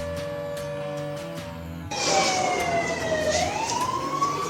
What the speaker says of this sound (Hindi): ये आज सिर्फ सायरन की टेस्टिंग थी।